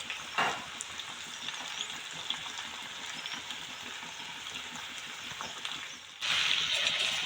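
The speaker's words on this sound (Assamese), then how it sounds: "জালুকৰ গুড়া এড কৰাৰ পিছত আকৌ অকণমান টাইম মই মাংসখিনি ভাজি ঢাকোন দি ৰাখিলোঁ।" Local chicken meat frying with black pepper powder, a steady broadband sizzle that runs without a break and turns louder and brighter near the end, with no voices.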